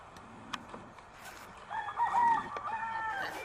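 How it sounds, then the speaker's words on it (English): A game rooster crows once, loud and drawn out, over quiet outdoor background with a few faint clucks. "Some game chickens."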